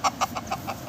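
Farm chickens cluck in a quick series of six short, evenly spaced calls, close and moderately loud, with no talking over them.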